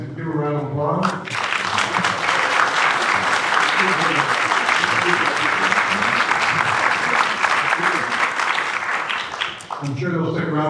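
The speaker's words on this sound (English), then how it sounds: "Give a round of applause." A town candidates forum audience applauds for about nine seconds, a dense, loud, sustained wash of many hands clapping, with brief talk at the start and at the end.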